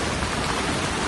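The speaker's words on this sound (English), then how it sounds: "right now it is raining cats and dogs, and my tent is leaking" Heavy rain pours steadily onto a large air tent at a campground, a dense, even hiss with no pauses, close and loud throughout the short stretch.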